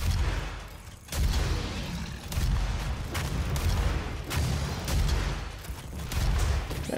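A rocket launcher in the video game DOOM fires again and again, each shot a heavy booming blast arriving in quick succession, loud and close over a rumbling background.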